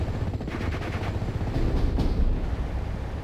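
Machine gun fire from a Vickers and an MG34 in the WWII strategy game Steel Division: Normandy 44, a dense, continuous rattle of automatic bursts with heavier thuds mixed in, loud and sustained with no talking.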